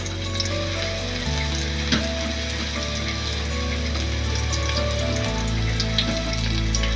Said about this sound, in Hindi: और अब हम इसके अंदर 2 से 3 टेबलस्पून ग्रीन गार्लिक शामिल कर देंगे।